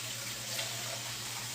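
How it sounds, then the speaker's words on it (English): Water pours steadily into a cooking pot of red beans and rice, a continuous soft rushing splash at close range with no talk over it. "I add a little water."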